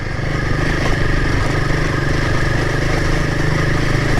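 A Royal Enfield Himalayan motorcycle crosses rough, wet ground, its loud steady single-cylinder engine drone running close throughout with rattling clatter over the top.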